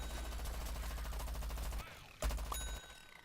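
Rapid-fire weapon in Plants vs Zombies Garden Warfare 2, a fast steady stream of shots for nearly two seconds, a short pause, then another brief burst ending with a ding-like chime.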